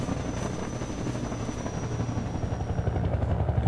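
Helicopter in the video game Half-Life 2: a steady low rotor thump and whine that slowly grows louder as it approaches, alone with no talk.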